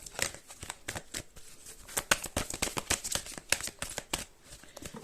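Tarot cards being shuffled by hand, a fast run of crisp riffling snaps and flutters, close and fairly loud, with no talk over them.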